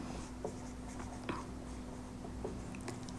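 A maths equation is written on a board with a few soft scratchy strokes and taps, quiet under a steady low hum, with no talking.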